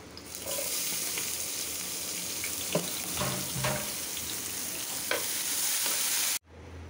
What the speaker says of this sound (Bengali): এখানে আরেকটু তেল দেবো পেঁয়াজটা ভাজার জন্য।